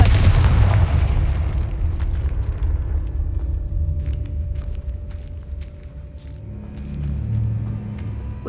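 The Confringo blasting spell in Hogwarts Legacy detonates with one loud, deep boom at the start, then a long low rumble of debris that fades away, with faint scuffs and shifting afterward.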